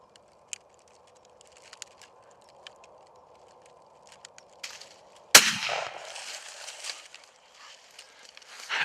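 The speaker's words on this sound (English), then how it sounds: "You're good, shoot him." A single sharp rifle shot rings out outdoors at a buck during a deer hunt on the Great Plains, following quiet field ambience with soft rustles, and a noisy rustling tail trails after it.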